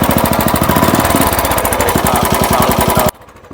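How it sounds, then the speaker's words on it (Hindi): A Bullet motorcycle engine, partly repaired, runs close and very loud with a rapid, heavy, even thumping beat, then cuts abruptly to a much quieter background near the end. "बुलेट को हम स्टार्ट करते हैं"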